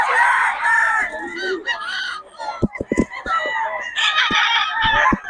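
Roosters and chickens belonging to Boss Roy in Pangasinan crow and cluck loudly and close by, several birds overlapping, with a voice talking between the calls.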